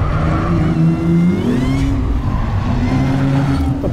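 A car engine drones close by under acceleration on a racetrack straight during a lap timing run, its pitch climbing, then briefly dropping as a gear changes before rising again.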